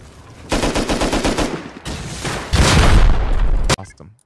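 Gunfire in the video game Rust, with rapid repeated shots followed by a denser, louder burst of booming fire that cuts off abruptly, loud and close.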